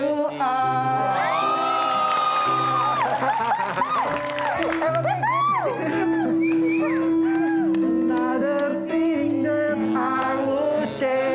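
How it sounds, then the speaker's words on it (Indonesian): A loud crowd screams and whoops continuously, with shrill overlapping voices over music in the background. "Yang jerit-jerit kenapa mereka?"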